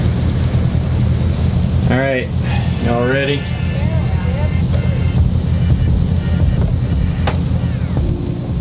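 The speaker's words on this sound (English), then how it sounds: "we're gonna start the engines and get going." Boat engines running on a boat leaving a mooring, a steady low motor rumble with wind buffeting the microphone throughout, while a few people talk briefly over it near the start.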